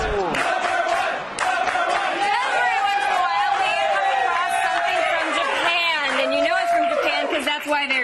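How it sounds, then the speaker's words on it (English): A studio audience on a Japanese TV game show cheers and shouts in a loud, continuous wave of excited voices, close and dense throughout. "Why they're cheering so much."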